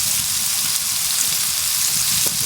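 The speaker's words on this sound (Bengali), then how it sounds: "মাংস এবং আলু ভাজার জন্য চুলায় দেওয়া হলো।" Meat and potatoes frying on a stove give a loud, dense, continuous sizzle, close and steady with no talk.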